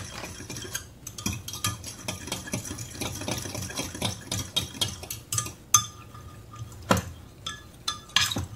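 A spoon stirs strawberry gelatin into very hot water in a cup, giving repeated light clinks and scrapes against the side with soft liquid swishing, close up and steady.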